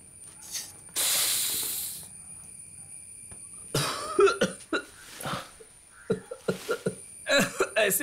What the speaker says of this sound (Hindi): पहला कश लगाने से खांसी होती है